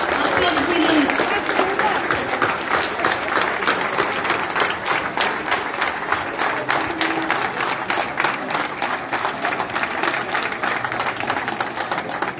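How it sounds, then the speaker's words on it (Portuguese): Enthusiastic audience applause at a Socialist Party political dinner in Vizela, Portugal, a dense sustained roar of clapping with rhythmic synchronized claps emerging, a few cheers mixed in throughout. "Acompanhem-me num grande aplauso ao Sr. Presidente."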